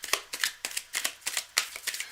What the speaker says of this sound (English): I'm just going to shuffle things up here.